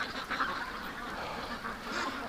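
Ducks kept shut in a pen overnight quack and call in a busy, continuous chatter that is moderately near and fairly steady, with a few louder calls standing out.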